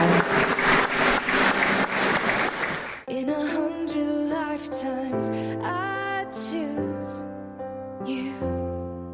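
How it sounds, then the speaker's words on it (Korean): Wedding guests at a hotel ceremony break into a loud round of applause, dense clapping for about three seconds before music with singing takes over. "축복의 큰 박수를 부탁드리겠습니다."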